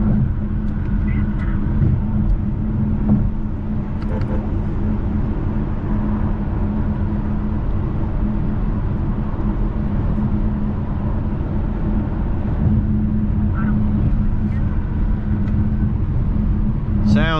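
A 2014 Audi A8 V6 Quattro cruises on a highway with a steady, loud low road and engine rumble throughout. Faint voice fragments rise over it here and there.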